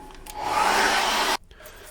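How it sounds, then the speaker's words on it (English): A hairdryer blows loudly over wet acrylic paint on a Christmas card, its airy whoosh swelling in, holding for about a second, then cutting off abruptly. "I'm going to dry that very quickly with a hairdryer"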